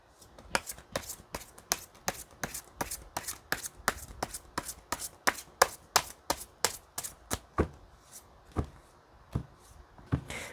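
Tarot cards shuffled and drawn by hand, a rapid run of crisp slapping card riffles and flicks, close and clear, thinning out into a few separate snaps near the end, no talk.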